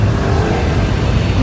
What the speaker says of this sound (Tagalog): Diba traffic dito?